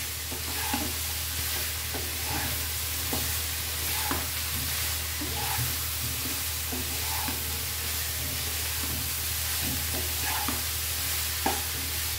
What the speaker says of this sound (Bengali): আমি আবার একটু নেড়ে দিলাম।